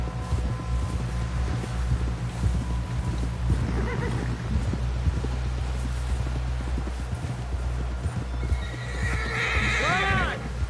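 A horse in a video game snorts and whinnies while its hooves clop steadily, with voices talking over a constant low rumble and a loud neigh near the end.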